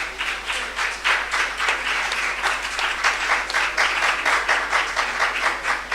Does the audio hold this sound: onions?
no